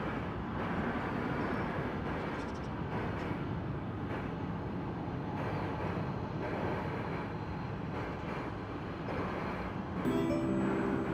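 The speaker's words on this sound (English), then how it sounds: "Embraer 175 from Fort Smith, Arkansas. And this is once again coming in on runway 18 left." An Embraer 175 airliner landing on runway 18 left at DFW Airport heard as a steady distant jet roar and broad rumble that holds evenly throughout.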